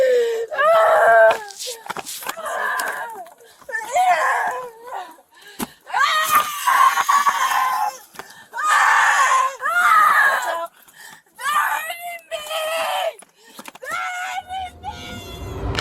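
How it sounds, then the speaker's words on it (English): A distressed woman screams and wails in a front yard at 6:20 in the morning while police are present, with loud, high, strained cries coming in repeated bursts and short pauses, close and raw. "Screaming in the front yard at 6:20 in the morning"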